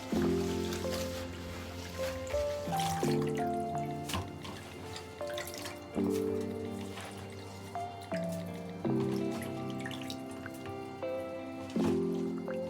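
An item being squeezed and rinsed by hand in a bowl of water, with repeated wet squishes, drips and trickles in a slow irregular rhythm, close and quiet, no talking.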